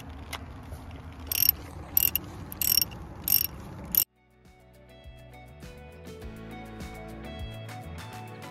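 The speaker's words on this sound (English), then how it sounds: "we're going to put it back in and tighten it up, but we're not going to do it too tight" A ratchet tightening a glow plug on a Jeep Cherokee XJ: several short, sharp bursts of clicking close up over the first four seconds, then the sound cuts to a quiet, steady tonal hum.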